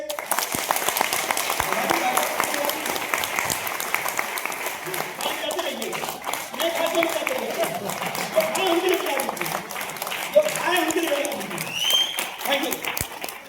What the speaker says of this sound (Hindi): एक बार ताली बजा दिए